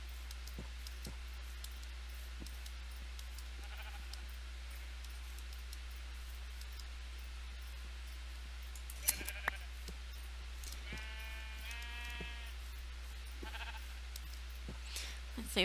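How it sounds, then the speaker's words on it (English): Sheep bleat in a Minecraft-style video game, a few short game bleats in quick clusters under faint ambient background, with no clear talk. "there's another sheep"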